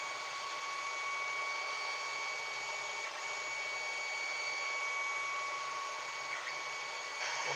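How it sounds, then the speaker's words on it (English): A 3D printer runs steadily nearby, a continuous whirring hum with faint whining tones and small shifts near the end, with no talk. "I don't need to hear the sounds of my own 3D printer"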